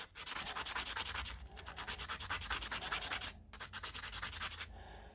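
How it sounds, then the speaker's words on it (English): Charcoal stick rubbed to a point against sandpaper, a steady rhythmic scratchy sanding with strokes close up and loud, a brief pause partway through, no talking. "I generally start off shaping my charcoal into a point with sandpaper"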